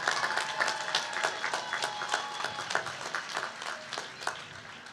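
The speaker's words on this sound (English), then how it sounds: "Let's applaud, let's give it up." Applause for graduates' family and friends fills a STEM commencement ceremony, a steady wash of many hands clapping at moderate distance.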